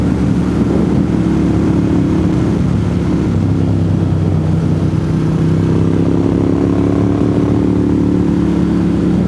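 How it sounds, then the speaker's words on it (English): Road traffic heard from inside a moving vehicle, a constant loud low engine and road rumble with steady droning tones and no distinct passing events. "Now we're in traffic."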